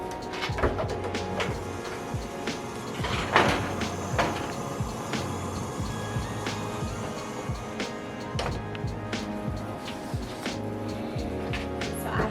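A muffin tray of spinach jalapeño egg white bites goes into an oven, with repeated metallic clatters and thuds over a low kitchen hum and no talking.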